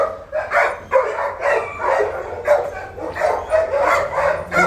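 Several dogs, including puppies, bark and yip in a steady run of overlapping barks while a new dog is introduced to them, close and fairly loud throughout.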